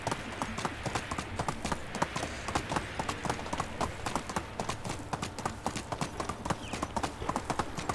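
In the Medieval Dynasty game, a ridden horse's hooves clop in a fast steady rhythm, close and even, each strike sharp and clear over a low ambient hum.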